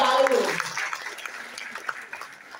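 Brief burst of seminar applause for police officers, clapping that starts under a voice, then thins into scattered claps and fades within a few seconds.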